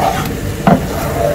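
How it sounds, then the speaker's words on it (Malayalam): A spoon stirs a grated beetroot and ground coconut mixture in a pan on the stove for a Kerala pachadi, giving a steady soft sizzle and scraping with one brief louder clink, close and continuous. "നമുക്ക് തേങ്ങയുടെ പച്ചമണം മാറുന്നവരെ ഒന്ന് ഇതേപോലെ ഒന്ന് മിക്സ് ചെയ്ത് കൊടുക്കാം."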